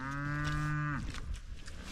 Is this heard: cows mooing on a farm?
yes